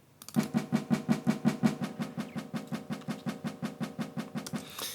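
Snare drums from a Logic Pro remake of the Rick & Morty theme, played with flams, strike in a fast steady roll of about twenty evenly spaced hits. The hits are crisp and close and sound alone.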